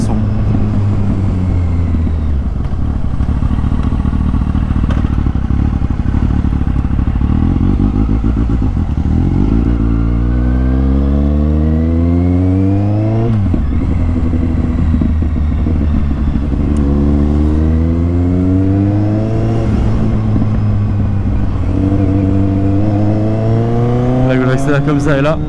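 A Triumph Street Triple R motorcycle engine revs again and again, its pitch sweeping up and falling back in loud, close bursts, with an excited rider talking over it.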